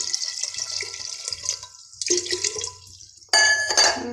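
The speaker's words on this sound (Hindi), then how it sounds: "लो जी थोड़ा जा पानी आप होर पा दें," Water runs from a tap in a home kitchen in uneven bursts, splashing into a vessel, with a louder, fuller gush starting near the end.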